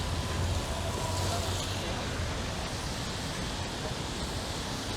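Rain falling on a Toronto city street during a summer walk, a dense steady hiss with a low traffic rumble underneath, continuous and fairly close.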